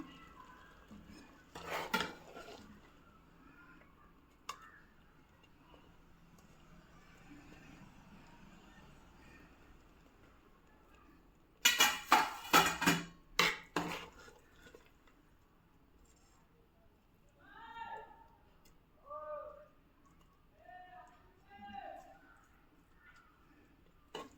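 Cooked ginnu, a village-style colostrum milk pudding, is poured from a pan onto a ghee-greased plate, with metal scraping and clinking in short bursts, a louder clattering cluster, then softer intermittent scrapes close by.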